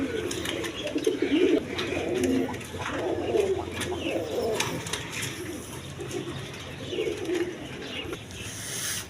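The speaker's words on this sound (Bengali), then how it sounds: "দেখেন কবুতর কারে অরিজিনাল ইন্ডিয়ান বোম্বাই কবুতর" Indian Bombay pigeons in red colouring, kept in pairs on a Bangladeshi pigeon farm, coo in repeated low throaty bursts at close range over a steady background of farm ambience.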